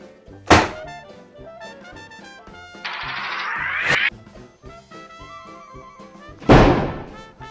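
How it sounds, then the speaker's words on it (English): A frozen sausage smashed hard onto a can gives a sharp, loud thunk near the start and another heavy thud near the end, with quieter clattering and a rising whine between them. "when you smash it down really fast and really hard, you hit it pretty much in the middle of the can there"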